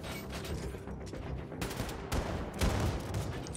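Pistol shots ring out in the Captain Wilkins video game as a headshot is taken, several sharp bursts over a busy mechanical game background.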